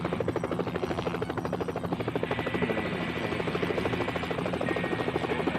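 A helicopter in Helicopter Simulator 2014: Search And Rescue flies and comes down to land, its rotor chopping in a steady, dense, loud rhythm that continues throughout, with no talk over it.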